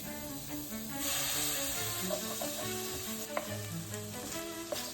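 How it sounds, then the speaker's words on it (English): Soup is poured into a hot pot of sautéed meat and onions to deglaze it, producing a loud steady sizzle and hiss with occasional clinks of a utensil stirring, close up. "A little bit of the soup to deglaze."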